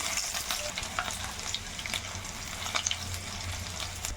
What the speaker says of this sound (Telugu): ఆవాలు, మినపగుండ్లు, ఎల్లిపాయ ఇవి కాసేపు వేగనియాలి.